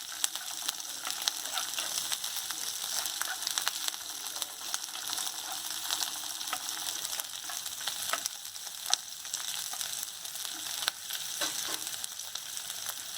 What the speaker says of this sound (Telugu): ఇప్పుడు మిర్చి కూడా వేసేస్తాం. ఇవన్నీ కొంచెం వేగాలి.